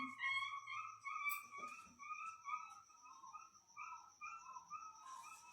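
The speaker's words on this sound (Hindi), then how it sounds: "कोई पिल्ले को मार दिया, वो चिल्ला रहा है।" A puppy whimpering and crying after being hit, a run of high, wavering, fairly close whines and yelps repeating throughout, no talking.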